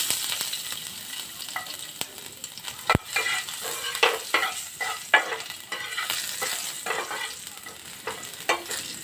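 Chopped garlic hits frying white cumin seeds in a pan and sizzles steadily, broken by sharp spoon clicks and scraping as the mix is stirred. No one speaks.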